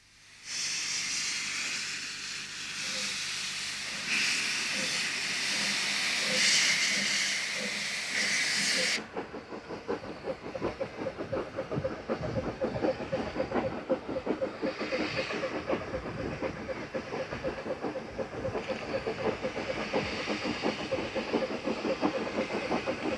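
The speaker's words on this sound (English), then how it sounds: "which seems to be emitting much cylinder exhaust steam" Loud, steady hiss of escaping cylinder exhaust steam from a radial tank steam locomotive for several seconds, then a rapid rhythmic chuffing and clatter of the moving locomotive continuing without voices.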